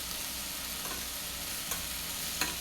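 Potatoes and vegetables stirred in a hot pan on a stove, a steady quiet sizzle with a few soft scraping stirs of the utensil, close and alone.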